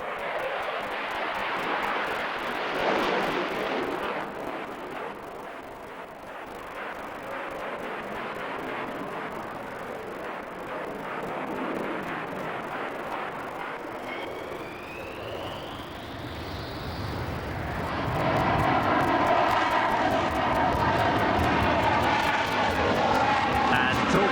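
A Dassault Rafale fighter jet flies at the Farnborough airshow: a loud, sustained roar that swells and shifts in pitch over many seconds, with a faint crowd and a narrator talking at times.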